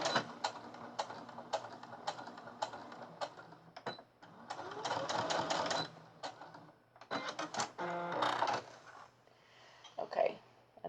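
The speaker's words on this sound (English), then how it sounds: "And then we're going to go do a top stitch and go back and forth a little bit." A sewing machine top stitches back and forth in short, stop-start runs of quick rhythmic clatter, recorded close up and fairly quiet, with small handling noises between bursts.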